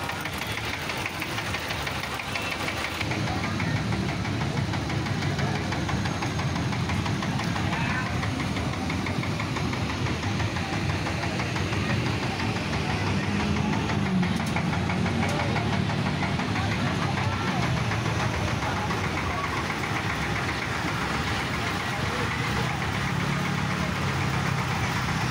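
Motorcycle engines droning steadily at a tong setan wall-of-death ride at a night market, a loud continuous mechanical roar with crowd noise throughout.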